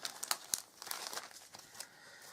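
Tissue paper crinkles and rustles up close in quick, irregular bursts, fairly quiet and with no talking.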